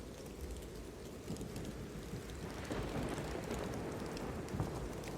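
Steady rain falls outside during a storm, a dense continuous patter on surfaces with faint low rumbles, heard alone with no voices.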